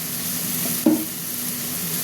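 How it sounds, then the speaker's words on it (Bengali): Onions and tomatoes with salt frying in a pan hiss steadily up close, with one sharp knock and scrape from the spatula as they are stirred, and no speech. "এবার আমি একটু নেড়ে দিচ্ছি"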